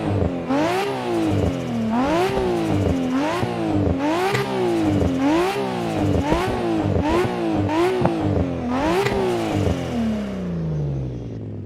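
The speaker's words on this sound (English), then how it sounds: "let's see how it sounds like from outside the car" A loud sports car engine revs repeatedly, heard from outside the car, rising and falling in about eight sharp bursts close by, then settles into a lower, fading idle.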